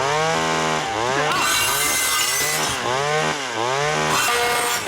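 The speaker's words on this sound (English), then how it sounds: "It all begins with a chainsaw." A cartoon chainsaw from Family Guy cuts through a sausage, its engine loud and close, revving up and down in repeated rising and falling whines over about five seconds, with no talking.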